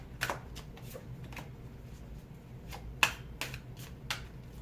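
Tarot cards riffle and tap in a handful of short, crisp bursts spread through a quiet room, soft and close, with a low background hum underneath.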